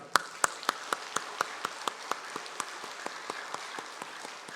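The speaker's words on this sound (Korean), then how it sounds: "우리 박수로 하나님께 영광을." A congregation in a church claps during a Christmas thanksgiving service, sharp hand claps in a steady rhythm at first, then thinning to softer, slower claps that fade near the end.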